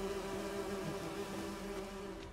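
Bees in The Witcher 3: Wild Hunt give a steady, close, droning buzz that stays even and unbroken for about two seconds, with no voices over it.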